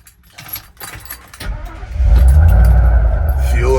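A restored 1956 Ford F100 Custom truck with fuel injection starts moving off. Keys jangle and light handling noises come first, then a loud, steady engine rumble takes over close by and holds.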